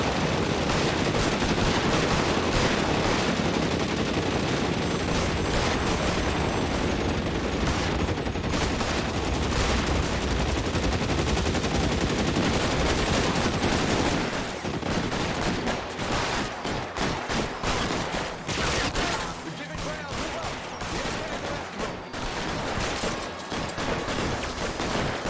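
Dense, loud gunfire from the video game L.A. Noire, rapid bursts and volleys layered almost without pause for the first half, then thinning into sparser shots and clatter.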